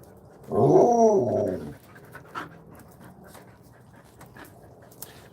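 Dogs panting outdoors, a quick, breathy rhythmic panting burst up close lasting about a second, then fading to soft ambient noise with faint shuffles.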